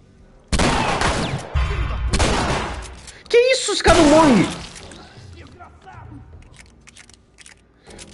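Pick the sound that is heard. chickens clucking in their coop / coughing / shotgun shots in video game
shotgun shots in video game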